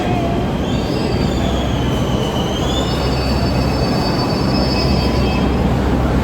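A Delhi Metro train at Rajiv Chowk station rumbles loudly and continuously close by, with high wheel squeals whining over the steady roar.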